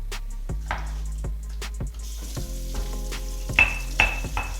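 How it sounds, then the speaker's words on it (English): Ripe avocados are mashed in a guacamole bowl with a stone grinder, making soft wet squelching and scraping strokes with occasional sharper knocks over a steady low room hum. "inside of our guacamole bowl we're going to use the stone grinder to mash up these avocados"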